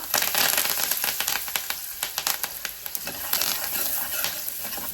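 Garlic and a few curry leaves hit hot oil in a pan, giving a bright, crackling sizzle close by, broken by sharp spits and pops and the scrape of stirring.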